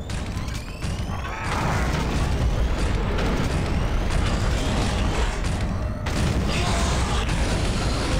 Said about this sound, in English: Freaking grenade.